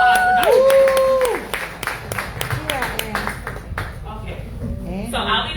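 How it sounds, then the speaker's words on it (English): Audience applause at a political forum, a spread of claps from a modest crowd that fades, with a speaker's voice over it and a brief whistle or feedback tone at the start. "Let's give another round of applause."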